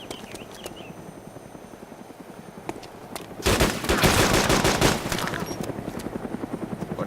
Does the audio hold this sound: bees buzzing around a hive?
no